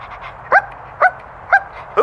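A dog barks four times in an even rhythm, each bark short, sharp and close, with quiet gaps between.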